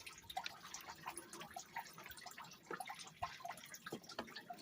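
Acid liquid carrying dissolved gold from scrap gold fingers poured into a container, faint irregular trickling and dripping splashes, quiet and close, with no talk.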